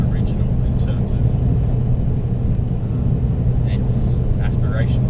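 An old Mini Cooper with a naturally aspirated engine drives along, its steady engine drone and road rumble filling the cabin continuously at moderate loudness.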